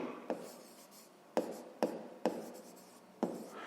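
A pen writes steadily on paper during a maths exercise: continuous close scratching and rubbing, broken by several sharp taps as the pen lifts and lands, with no talking.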